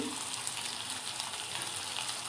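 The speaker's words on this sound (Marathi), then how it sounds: "आता मी हे वाटण यामध्ये ॲड करते" Chicken sizzles steadily in a hot pan as a spoonful of ground masala paste goes in for a Konkan-style chicken dish, a continuous close frying hiss with no voices.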